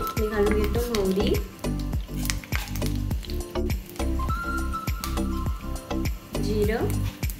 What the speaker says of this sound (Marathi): तेल गरम झालेलं आहे, मी घालून घेतो मोहरी